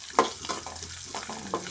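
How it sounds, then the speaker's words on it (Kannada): Spices such as cinnamon and coriander sizzle steadily in hot oil for tomato chutney, with a few louder crackles and spatters over a soft continuous fry. "ಈ ರೀತಿ ಕುದಿಬೇಕು ರೀ ಎಣ್ಣೆಯಾಗ"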